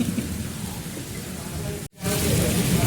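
Steady rain pours down outdoors on a farm during the sowing season, a dense hiss with a brief cut partway through.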